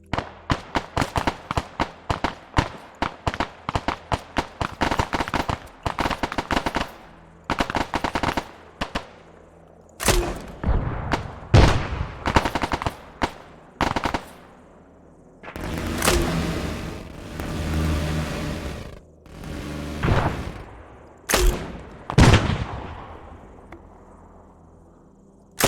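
Soldiers shoot in a military video game, trading rapid bursts of gunfire at close to mid range. Rattling volleys and single cracks come in uneven clusters, with short pauses between exchanges.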